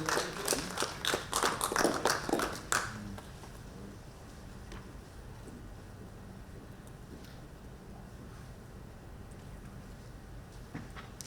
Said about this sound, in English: Big round of applause for Sunil Jain